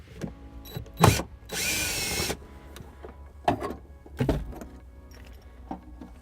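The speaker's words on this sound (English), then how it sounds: "And my drill, I remove this one here." Power drill removing a screw on a 2016 Subaru Forester, one short loud whir of under a second amid scattered clicks and knocks from handling parts.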